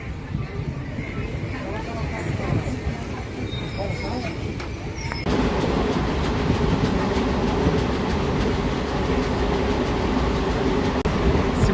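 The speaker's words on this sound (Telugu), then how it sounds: "మనకి ప్యారలల్గా ఒక గూడ్స్ ట్రైన్ వెళ్తుంది చూసారా కాన్కర్" Goods train of CONCOR containers runs alongside a moving passenger train, a steady rail rumble and wheel clatter that grows louder and denser halfway through, with talking over it.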